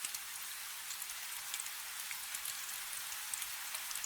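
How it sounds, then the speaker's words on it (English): Soft, steady rain patters on a roof in a dense, even hiss with scattered small drops, with no voices. "The rain's still coming, soft on the roof, the way it will keep coming till morning."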